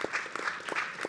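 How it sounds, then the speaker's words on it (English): A conference audience at a COP 15 panel session claps for the panelists, a dense patter of many hands at moderate distance, brief and steady. "Please, a round of applause to all of them."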